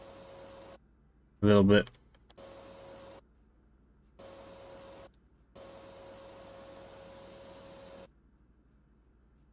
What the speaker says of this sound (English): Vacuum cleaner. It's going to pick up all this stuff, is it?